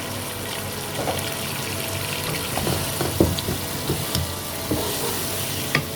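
Achari aloo baingan with tomatoes and a little yogurt sizzles steadily in a pan while a spoon stirs through it, with scattered scrapes and soft knocks over the continuous frying hiss.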